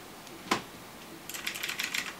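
A mechanical typewriter-style keyboard with round retro keycaps gives one sharp click, then a quick burst of about eight crisp key presses in a row, close and clear with no talking.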